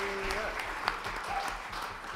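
Audience applause at a live concert at the Sylvia Center, a steady wash of clapping with faint talk and a brief tone underneath, moderately loud throughout.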